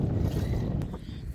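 Hilsa fishing trawlers moored at a canal bank off the Tetulia river give a steady low engine-like rumble, mixed with wind buffeting the microphone, for a short stretch.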